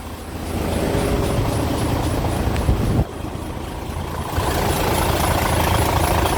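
An Isuzu 6WF1 inline engine in a turbocharged 12-wheeler wing van truck idles nearby with a loud, steady rumble that holds through the whole stretch, and no one speaks over it.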